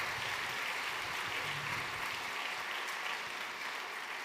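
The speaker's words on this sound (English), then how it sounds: "Let's give these wonderful kids a round of applause." An audience at a business hall of fame gala claps steadily for a group of kids, a dense, even wash of applause throughout with no talking.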